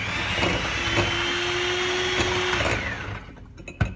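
An electric mixer whirs steadily as milk is blended into a batter, the motor droning loud and continuous before easing off near the end, followed by a brief clatter.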